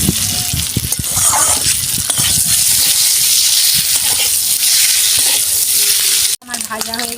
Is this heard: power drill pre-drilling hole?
no